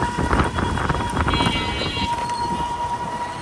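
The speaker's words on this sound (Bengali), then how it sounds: "এদিকে তো মেট্রো আছে" A metro train runs past in Uttara with a loud, continuous rumble and rattle of wheels on rail, plus a steady high whine, close by and sustained throughout.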